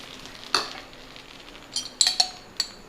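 Dosa batter sizzles softly on a hot pan while a utensil clinks and scrapes against the metal a few times in sharp, separate taps.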